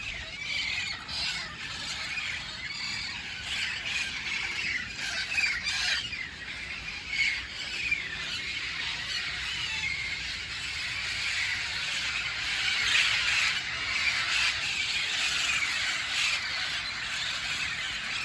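Parrots squawking loudly and repeatedly, harsh shrill calls overlapping without pause, close by, with occasional squeals.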